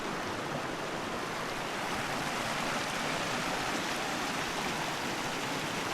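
A river flows through the Black Canyon of the Gunnison, a steady, dense broadband rush of moving water heard alone and continuously.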